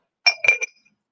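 Thick Avon glass hen-on-nest dish clinking as it is handled: three quick, bright knocks of heavy glass close up, each ringing briefly in an otherwise quiet room.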